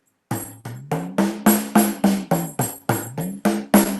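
A kanjira frame drum's membrane struck about eleven times in a steady rhythm, each hit a close, resonant tone with a pitch that bends as the skin is pressed to raise it.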